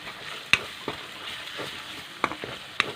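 Masala sizzles softly in hot oil in a pan while being stirred for a raw jackfruit and potato curry, with a few sharp spoon scrapes and clicks over a steady low hiss.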